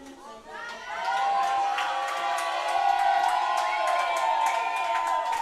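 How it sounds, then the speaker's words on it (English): Spectators in the stands at a junior girls' 10m platform diving competition break into loud, sustained cheering and whooping, a bright wash of young voices that swells and holds. "And a big cheer from the stands."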